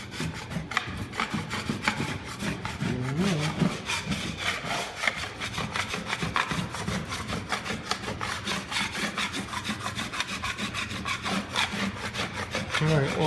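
A blade scrapes two layers of very old wallpaper and glue residue off a wall, making close, continuous rasping strokes in a fast steady rhythm with no pauses.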